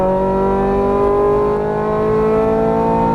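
Ferrari 430 Scuderia V8 engine revving hard under full throttle, a loud, steady rising harmonic whine climbing in pitch for several seconds, close and alone without talk.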